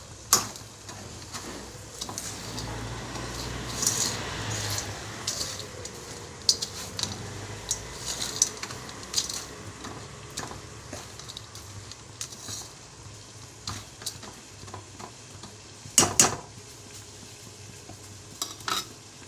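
Melted sugar caramelizes in a pan as a spoon stirs it, soft sizzling under repeated scrapes and clinks of utensil against the pan, fairly quiet and close, with a sharper clatter near the end.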